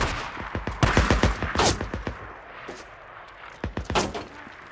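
Gunfire from a Days Gone ambush camp fight: rapid, sharp shots crack in close, uneven bursts, some layered over one another, with brief lulls between volleys.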